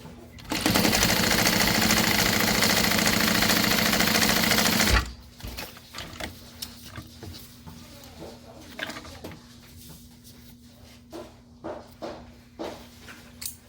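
A sewing machine top stitches a folded slip pocket in one loud, steady run of about four seconds, followed by quieter fabric handling, rustles and small clicks.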